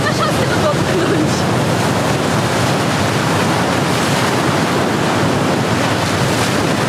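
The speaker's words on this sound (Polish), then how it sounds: "Ale są fale." Atlantic Ocean waves break and wash loudly on a Madeira shore, a continuous roaring surf with wind buffeting the microphone, and a voice speaks briefly over it.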